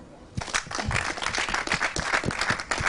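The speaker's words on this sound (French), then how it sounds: "Peut applaudir." An audience breaks into applause at a live televised business showcase, a dense patter of many hands starting abruptly and carrying steadily to the end.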